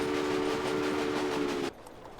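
A steam train runs in the video game Railway Empire, giving a steady loud rumble with a sustained whistle-like tone that cuts off abruptly, leaving a softer rolling noise.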